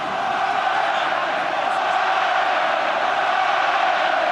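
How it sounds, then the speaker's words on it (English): A large rugby crowd roars steadily at a Wellington stadium during the Ireland vs Wales World Cup quarter-final, a dense, continuous wash of voices at constant loudness with no single voice standing out. "And the crowd getting themselves involved"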